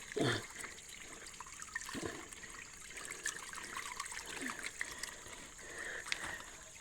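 Water runs from a hose in a steady trickle and flow, with occasional louder splashes and gurgles rising over a continuous watery hiss, with no clear speech.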